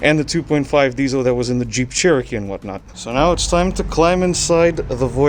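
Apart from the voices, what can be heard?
No everyday noise stands out behind the speech.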